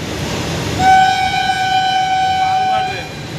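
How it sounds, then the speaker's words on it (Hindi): A train passes at Gorakhnath railway station, its horn sounding a long, loud, steady tone for about two seconds over the rumble and ambient station noise. "गोरखनाथ रेल स्टेशन ये स्टेशन है और ये रेल जा रहा है"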